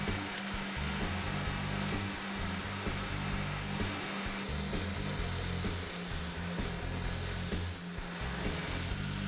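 A belt sander built as a lathe sanding station runs steadily, giving a constant loud motor whir and belt rush with small fluctuations and no pauses.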